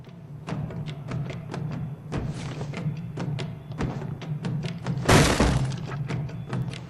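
A smashing strike on a diner in Jade Empire: a string of sharp thuds and knocks building to one loud crashing, shattering impact near the end, with no talk over it.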